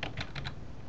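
Quick, soft clicks of keys on a computer keyboard, about four keystrokes in the first half second over a faint background hum, with no talk.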